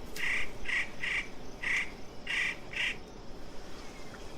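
Birds in a Chinese documentary setting give six short, harsh squawking calls spaced evenly over about three seconds, moderately near and clear above a steady low background hiss, with no talking.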